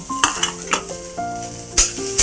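Dry coconut and onion roast in a pan, with a low sizzle and intermittent scraping and clinking of a utensil over faint tonal music.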